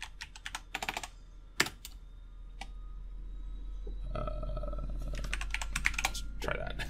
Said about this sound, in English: If I can fucking type on my mechanical keyboard.